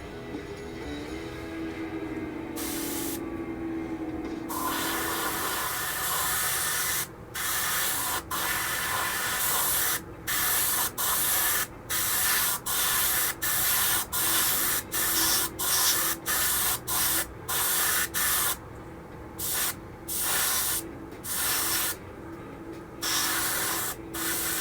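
Aerosol spraying during body prep on a 1969 Corvette 427, a steady hiss in a long series of short and longer bursts separated by brief gaps, with no talk.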